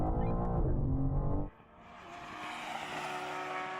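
A BMW M4 CSL and a Porsche 911 GT3 racing: a loud engine roar holds for about a second and a half, cuts off sharply on a gear change, then builds again with rising engine tone and rushing noise.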